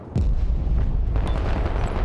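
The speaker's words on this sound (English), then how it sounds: "Close air support inbound. Roger, strafing the area." Loud strafing run from close air support in a war video game, a dense continuous roar of rapid gunfire and blasts sweeping the area, starting abruptly and holding steady.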